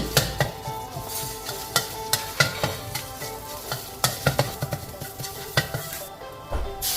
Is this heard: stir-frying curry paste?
yes